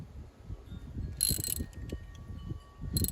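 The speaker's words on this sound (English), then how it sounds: "We actually got the socket wrench now." A socket wrench works on a spark plug in short ratcheting bursts of clicks, quiet and close, with brief gaps between the strokes.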